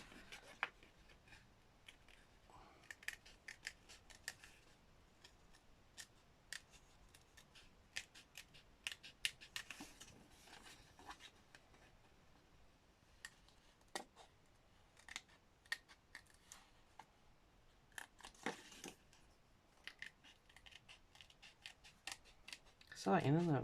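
Small tweezer scissors snipping paper in a junk journal, a long series of quiet, irregular crisp clicks and cuts close by, with a brief louder knock at the very end.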